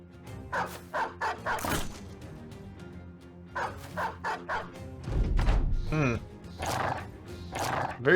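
War dogs in the video game Battle Brothers bark in quick bursts, several sharp yaps in clusters, with other game combat noises and commentary mixed in.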